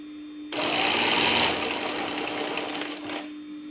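An electric sewing machine runs steadily, stitching crepe fabric for an open abaya, starting abruptly with a close, even buzzing whir that holds for about three seconds before stopping.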